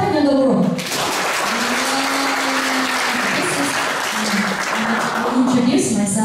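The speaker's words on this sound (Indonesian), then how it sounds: "So tiap-tiap kan boleh beri satu tepukan yang gembira." Audience applause at a Buddhist university gathering in Malaysia, a dense steady wash of clapping holding for about five seconds at close range, with voices murmuring underneath.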